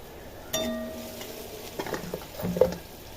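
Onion and marinated meat frying in a home kitchen pan, a soft sizzle broken by stirring scrapes and a few clinks of utensils against the pan, with no talk.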